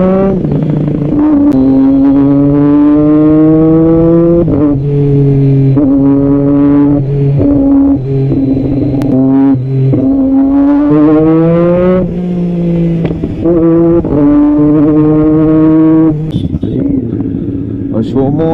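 A Royal Enfield Bullet motorcycle engine drones loudly and close with a deep, steady exhaust note that rises and falls under revving throughout, while someone talks over it.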